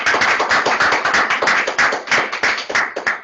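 At a 2020 entrepreneurial program graduation, an audience claps in a brief, dense round of applause, a close, bright, steady patter of hands that fades out at the end.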